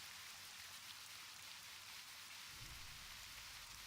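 Steady rain falls in the World of Warcraft video game, a soft, even hiss of drops on the ground that stays constant, with a low rumble entering near the end.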